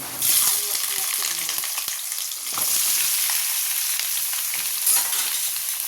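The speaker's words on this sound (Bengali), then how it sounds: "রসুনটা একটু তেলে দিয়ে দিয়েছি কড়া করে ভেজে নেবো" Garlic fries in hot oil in a pan with a close, steady crackling sizzle. Stirring scrapes and faint talk come through here and there.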